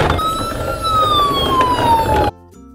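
A toy ambulance siren wails in a single long descending sweep, loud and close, then cuts off abruptly, leaving a brief faint electronic tail.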